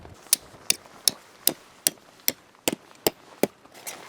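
Hammer driving tent stakes into hard, rocky ground while pitching a large camping tent: about ten sharp, evenly spaced metallic strikes, close and loud, with quiet gaps between them.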